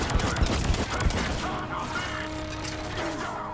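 Rapid bursts of gunfire in a Mass Effect 3 battle crackle densely for the first second and a half, then fade behind a lingering sci-fi hum and tonal whine.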